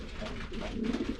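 Young pigeons cooing inside a loft, a few soft low throaty coos rising and falling close by, with light rustling around them.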